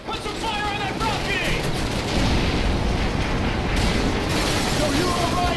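Call of Duty 4 gunfire rattles in dense, sustained bursts with booming blasts beneath, loud and continuous, as voices shout over the combat.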